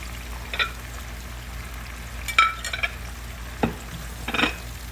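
Tomatoes, green chilies and spices fry in a pan for a lauki sabzi, giving a soft steady sizzle broken by a few quick scraping stirs.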